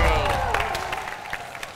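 A crowd claps in a brief burst of applause that fades over a couple of seconds.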